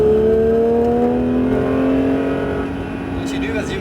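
A Porsche 911 GT3 accelerating on a race circuit, its engine note rising steadily in pitch as it pulls through the gears, loud and close, with an instructor's voice speaking over it.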